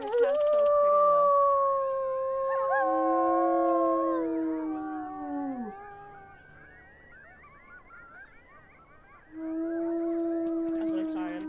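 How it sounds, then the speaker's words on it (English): A wolf in the video game WolfQuest Anniversary Edition howls in long, wavering, layered tones that swell, fade, then return loudly near the end, with no talk over it. "Just a mad wolf."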